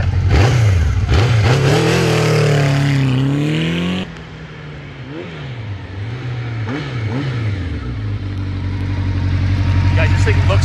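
A 1984 Honda Nighthawk S motorcycle engine revs up and down loudly and close by, its exhaust note rising and falling in repeated sweeps, then settling into a steady idle that builds again toward the end.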